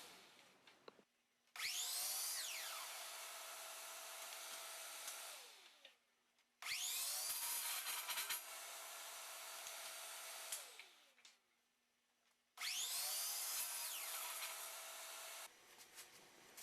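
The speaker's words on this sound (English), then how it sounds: "I'll cut all the handles to the same length." A miter saw at a stop-block station cuts wooden handles to length in three separate passes, each a loud whining motor spin-up, a sustained cut and a winding-down pause, close with no talking.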